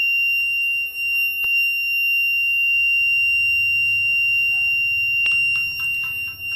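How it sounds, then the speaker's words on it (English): A loud, steady electronic buzzer alarm from an IoT temperature monitor, triggered above 75 degrees Celsius, rings continuously at one piercing pitch, with a few clicks and faint background noise underneath. "So we can see now this buzzer is ringing, the LED is also on"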